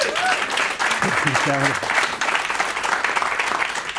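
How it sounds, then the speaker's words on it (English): An audience breaks into applause at an AIESEC anniversary gathering, a dense sustained clapping crowd filling the room, with a voice speaking briefly over the start. "Give Boyd Griffin an applause right here."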